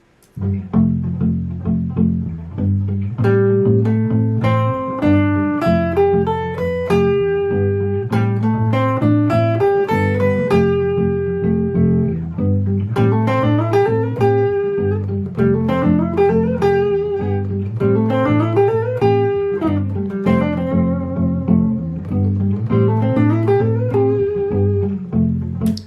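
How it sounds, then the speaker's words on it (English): A plucked guitar runs steadily through ascending and descending note patterns over low sustained bass tones, continuous and clear, with no voices. "Let's play the scale without the first technique and hear what it sounds like."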